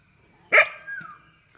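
A dog on a farm lot in Calauag, Quezon gives one sharp, fairly near bark followed by a fainter second yelp, over quiet outdoor background.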